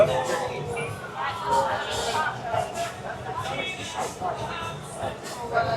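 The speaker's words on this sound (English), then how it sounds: "here we are at Flying Monkey, and it is got a good little crowd here" Crowd chatter fills the Flying Monkey bar in Key West, a steady babble of many voices with shuffling and clatter, and a nearby voice talking over it.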